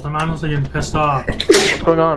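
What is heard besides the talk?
sneeze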